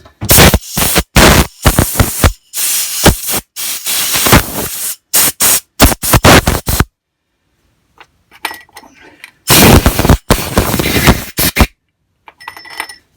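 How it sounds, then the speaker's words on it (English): A compressed air line blows down the carburettor parts of a Hayter 41 lawn mower. Loud, close hissing bursts come in rapid repeated blasts, with a pause in the middle before more blasts. No one talks. "Just give everything a bit of a blow down with the airline."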